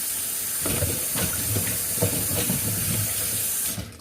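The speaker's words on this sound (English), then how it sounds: "Let's wash your fruit." Strawberries are washed under a running kitchen tap, the steady rush of water broken by soft splashing as the fruit is handled, before the flow cuts off at the end.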